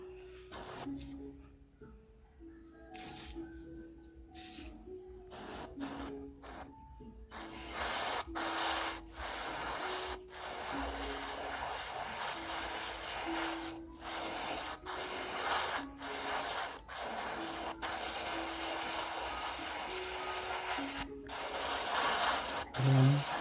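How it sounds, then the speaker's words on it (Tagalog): An airbrush sprays black base paint over a primed part in long steady hissing passes, broken by short pauses and quieter stretches with a faint tone. "meron na akong nakaload sa airbrush na black. Spray na lang natin."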